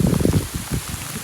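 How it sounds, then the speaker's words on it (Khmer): Rain falls steadily on a rural trip near Sre Ambel in Cambodia, a dense, close patter with a low rumbling wash that continues through the whole moment with no voices. "ថតទាំងមេភ្លៀង"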